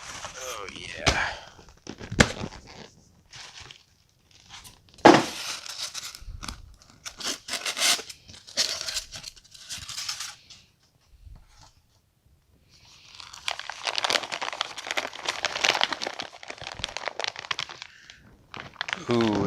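A box is cut open with a box cutter and a package unpacked, with scattered scraping, tearing and crinkling bursts up close, including a longer stretch of rustling packaging, between spoken remarks.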